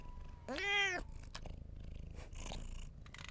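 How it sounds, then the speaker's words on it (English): A cat purrs up close in a soft, steady rhythmic rumble, broken early by a single short meow. "Kiki, let them hear you purring."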